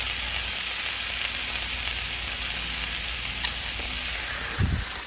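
Chickpeas and black beans frying in a pan for vegan tacos give a steady, even sizzle and crackle throughout, near and continuous, with a brief low thump near the end and no talking.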